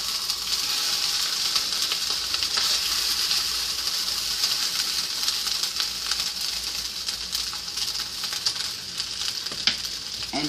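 Shrimp fried rice sizzling steadily in a hot pan while being stirred and tossed, a loud continuous hiss with scraping accents and no talking.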